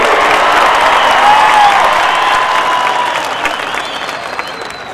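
A large crowd at a political rally claps loudly and continuously, dense applause with some cheering that slowly tapers off toward the end, no speech on top.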